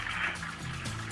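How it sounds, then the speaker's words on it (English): A toilet flushing in the background of a 911 emergency phone call, heard as a muffled, watery rush through the phone line across the whole moment. "you can hear the toilet flushing in the background"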